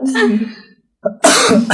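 A person speaks briefly, pauses, then lets out a loud, harsh cough close up that trails into a rough throat sound.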